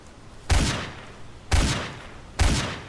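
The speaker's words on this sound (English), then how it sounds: "I'll start shooting at him." Three heavy gunshots in a video game, spaced about a second apart, each a loud sharp blast with a short decaying tail, no talking between them.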